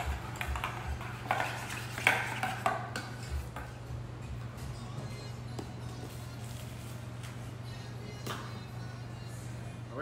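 A utensil stirs a dipping sauce in a bowl for cheeseburger egg rolls, giving irregular clinks and scrapes against the bowl over a steady low hum, with no talk.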